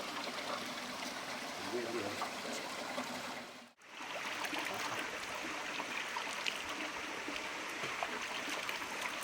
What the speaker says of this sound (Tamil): இங்கே நீர் ஊற்று கிளம்பி வருது தண்ணி.